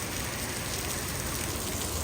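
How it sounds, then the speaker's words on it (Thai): Heavy rain pours down steadily during a flooding downpour in Thailand, a dense, even hiss of drops drumming on surfaces that stays constant throughout with no voices. "แล้วทุกคนเบิ่งฝนตกจนน้ำท่วม"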